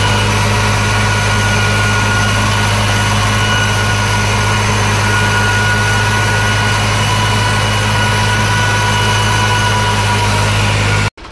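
A New Holland 3600-2 tractor fitted with an 8-foot super seeder runs steadily in fourth gear, its diesel engine holding a constant, close, loud drone with a deep low hum and no talk for about eleven seconds before cutting off.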